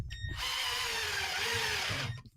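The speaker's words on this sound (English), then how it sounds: "I'm just going to drill into wood right now." A power drill drives a screw into wood, a single steady high whine lasting about two seconds before cutting off, close and loud with no voices.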